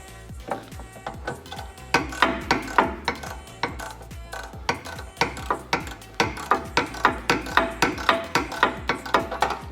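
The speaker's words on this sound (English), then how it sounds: "these are going to have to be moved out all the way with a ratchet" A hand ratchet turns out bolts on the rear wheel bearing of a VW CC, with a steady run of sharp, close clicking bursts repeating in quick rhythm throughout.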